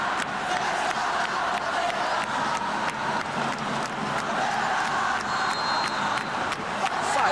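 A Flamengo crowd roars and chants after a goal in the PES 2019 video game, during a Flamengo vs Vasco Campeonato Carioca final; the cheering is sustained and loud, with an occasional whistle.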